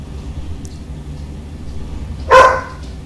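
One sharp dog bark sounds out fairly close over a steady low rumble, otherwise the scene stays quiet.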